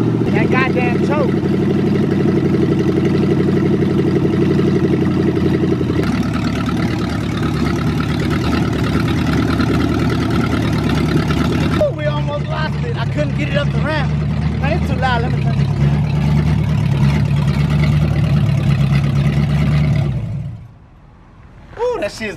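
A loud, raw 1963 Impala lowrider engine with no exhaust idles and rumbles steadily with a harsh, unmuffled roar, briefly revving, before cutting out near the end.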